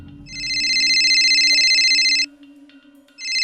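A telephone rings with an electronic trilling tone, one long loud burst, a short pause, then the ring starting again, clear and close with no voices.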